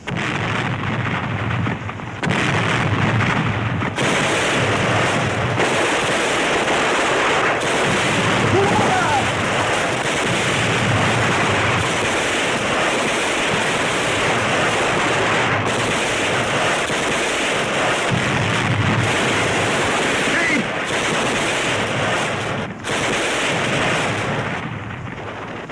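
Battle scene gunfire, with dense, sustained bursts of rifle and machine-gun fire and heavy booms filling the whole stretch, loud and close with brief gaps, and someone shouting orders over the din.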